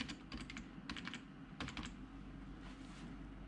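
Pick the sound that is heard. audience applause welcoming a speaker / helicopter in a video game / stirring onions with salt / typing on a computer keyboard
typing on a computer keyboard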